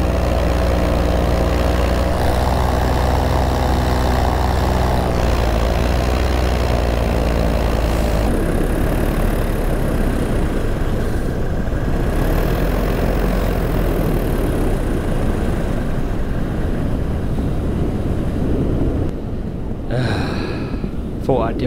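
A Moster 185 paramotor engine on a Parajet V2 idles steadily at altitude, a continuous droning hum with wind rush, briefly shifting pitch midway before sputtering near the end.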